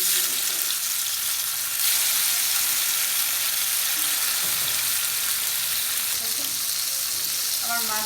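Rohu fish pieces fry in oil left over from frying eggplant, making a loud, dense, continuous sizzle close by that stays strong throughout.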